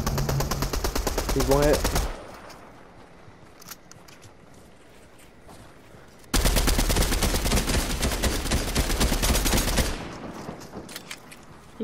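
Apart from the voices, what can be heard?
gunfire in the video game Fortnite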